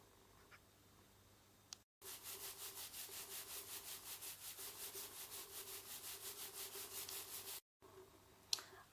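Wool felt fibres are rubbed by hand in a fast, even back-and-forth rhythm, a close, papery swishing that runs steadily for several seconds between quiet pauses.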